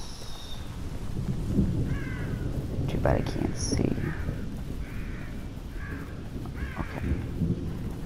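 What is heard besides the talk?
crows cawing in video game The Evil Within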